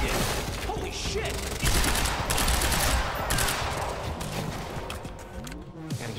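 Gunfire in the video game Quantum Break, a steady, busy fusillade of rapid shots mixed with other combat effects, staying loud throughout.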